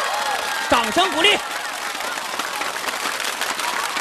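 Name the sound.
audience applause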